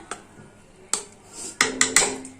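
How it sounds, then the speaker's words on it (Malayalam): Salt being mixed into pachadi in a bowl for a Vishu sadhya, heard as a few sharp clinks and scrapes of a spoon against the bowl, one early and a cluster near the end, with no talk. "ഇതിനകത്തും നമുക്ക് ലേശം ഉപ്പ് ആഡ് ചെയ്ത് കൊടുക്കാം. കുറച്ച് മതി കേട്ടോ. എന്നിട്ട് ഇതൊന്ന് മിക്സ് ആക്കി കൊടുക്കുക."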